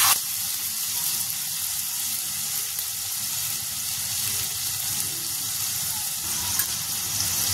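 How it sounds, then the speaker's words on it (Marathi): A ground onion and tomato paste fries in oil with curry leaves for a prawn masala, giving a continuous close hissing sizzle without talk. "कढीपत्ता टाकायचा आहे, आणि आपण कांदा आणि टमाट्याचं वाटलेलं त्यामध्ये टाकायचं आहे"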